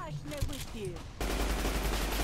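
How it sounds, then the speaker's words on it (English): In Fallout New Vegas, a Tommy gun opens up in a dense, continuous burst of automatic fire after a moment of game sound and a voice talking. "Eat Tommy gun!"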